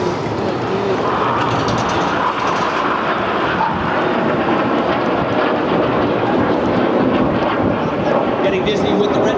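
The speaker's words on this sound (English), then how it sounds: "The fifth jet now starts to roll around them a dozen times." Red Arrows jets performing a Twister formation roll at a seaside air show in Clacton-on-Sea, Essex, a continuous loud broadband jet roar filling the whole stretch with a commentator talking over it.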